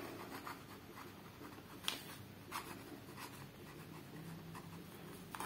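A Jinhao 35 fountain pen with an extra-fine nib scratching across paper, soft continuous scribbling strokes with a few sharper ticks, close and quiet with no voices.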